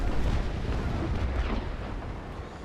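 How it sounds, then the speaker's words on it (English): Ship cannon broadside in the naval battle game Naval Action: a heavy rolling barrage of booms, loud at first and slowly fading into a rumbling tail, with no voices. "He did fire off a broadside"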